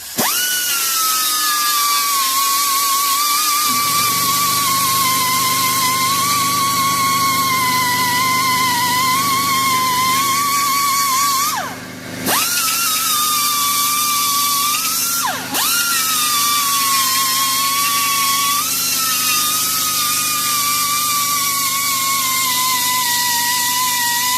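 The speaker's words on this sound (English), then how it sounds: "we got to make sure we get all this gasket material off of here, so we're going to use our grinder" A power grinder scrubs old gasket material off a Briggs and Stratton engine, a loud, steady high whine that runs nearly unbroken, dipping briefly twice as the tool lifts or bears down, with no talking.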